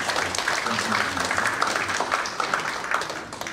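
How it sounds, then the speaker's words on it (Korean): Applause welcoming a guest at a Korean gathering, likely a political or civic event where attendees are introduced, steady clapping from the crowd with some talk mixed underneath. "뜨거운 박수로 환영합니다"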